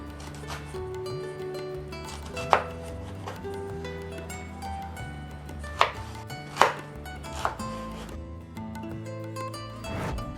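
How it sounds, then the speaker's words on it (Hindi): Knife slicing peeled mangoes into strips on a board, with a low steady hum under it and several sharp, distinct cuts spaced irregularly through the stretch. "इन मैंगोस को हम स्ट्रिप्स में काटेंगे, तो इसके लिए पहले मैं इसके स्लाइसेस करूँगी।"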